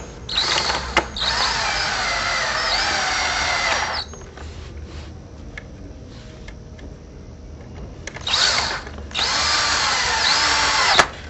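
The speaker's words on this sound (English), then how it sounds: "insert the screw into the pre-drilled holes and install the T-post" Power drill driving screws through pre-drilled holes to fasten a T-post into a panel frame, two loud whirring bursts with a quiet pause between, close and alone.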